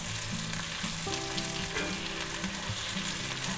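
Sliced medium onion sautéing in a pan, a steady close crackling sizzle that runs unbroken throughout, faint and with no voices.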